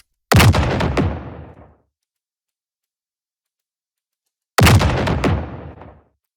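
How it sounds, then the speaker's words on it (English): Two heavy synthetic explosion blasts, each a sharp boom decaying over about a second with crackling tails, separated by silence. "This can sound quite artificial, but we're just going to go for it anyway."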